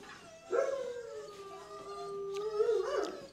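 A small dog lets out a drawn-out howl that rises, holds a long wavering tone and swells again at the end, close and clear, with no talk.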